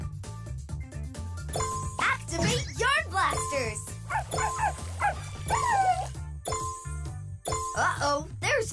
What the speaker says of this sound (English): Uh-oh, there's Mr. Puppy Paws.